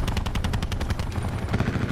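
Rapid automatic gunfire from a video game, a fast, even stream of loud close shots rattling without pause for about two seconds, with no talking.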